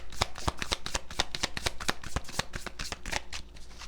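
Tarot cards riffle-shuffled by hand, a rapid series of crisp, close flicks and slaps in a fast irregular rhythm with no talking.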